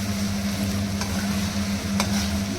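Cauliflower gobi frying in a pan over a medium flame while being stirred, giving a steady sizzle with a couple of faint utensil scrapes, close and continuous.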